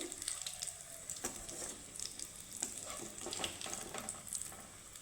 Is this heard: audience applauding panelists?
no